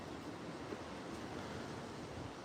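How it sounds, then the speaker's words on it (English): Gusty wind outdoors makes a dense, steady rushing roar that buffets the microphone without pause. "Joda is definitely probably, yeah, not happy that it's windy like this."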